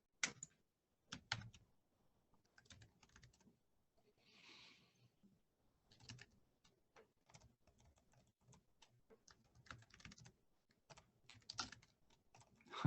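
Irregular bursts of keystrokes on a computer keyboard, clicking in quick runs with brief pauses, close and fairly quiet.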